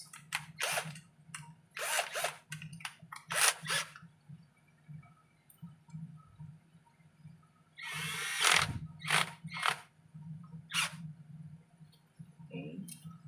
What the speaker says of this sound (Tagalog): Gamit tayo ng cordless. Para mabilis.